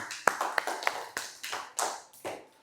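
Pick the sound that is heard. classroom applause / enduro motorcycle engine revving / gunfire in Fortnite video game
classroom applause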